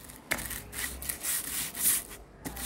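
A hand rubs 600-grit sandpaper back and forth over a surface in a steady series of soft, close scraping strokes, with no talk over it.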